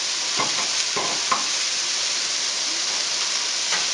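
Mushrooms and other ingredients sauté in a pan, giving a steady, close sizzle with a few brief scraping stirs near the start.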